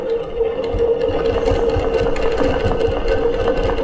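Longarm quilting machine stitching a custom quilt, a steady loud mechanical hum with fast rhythmic needle chatter running continuously and alone.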